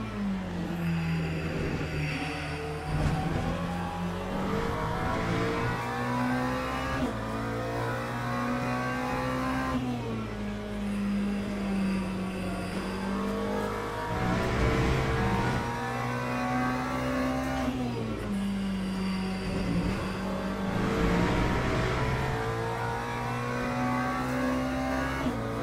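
A car on a race track brakes and accelerates repeatedly, the engine note climbing and dropping in steady cycles, loud and close throughout with no talking.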